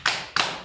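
Three quick fleshy slaps of hands on the inner thighs, close and fairly loud, evenly spaced during a morning wake-up exercise routine, with no one speaking.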